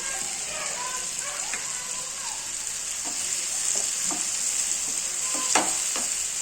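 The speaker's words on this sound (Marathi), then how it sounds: "आता याला चांगलं मिक्स करून घेऊ" Tomato chutney is stirred in a hot pan, with a steady sizzling hiss and scattered scrapes and taps of the spoon against the pan.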